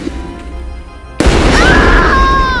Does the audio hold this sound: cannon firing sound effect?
yes